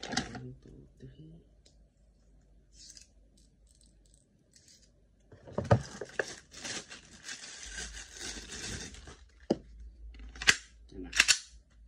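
A WE Glock 17 airsoft gas pistol fires several sharp cracking pops in quick bursts, clustered mid-clip and near the end, with quieter handling clicks and brief talk in between.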